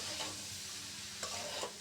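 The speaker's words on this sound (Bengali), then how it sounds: "ওই সেদ্ধ করা ইয়া ফুলকপি গাজর সিম আর আলু ভাজা এখন একসাথে দিয়ে নেড়ে চেড়ে নেব সুন্দরভাবে" Boiled cauliflower, carrot and beans with fried potato are tossed in a pan of tempered spices. The sizzle is quiet and close, broken by a couple of brief spatula scrapes.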